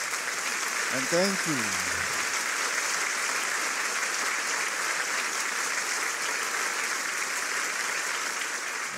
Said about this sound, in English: Let us welcome them with a big round of applause.